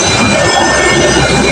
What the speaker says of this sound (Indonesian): Kereta api Kertajaya dengan tujuan stasiun Pasar Senen sudah melintas di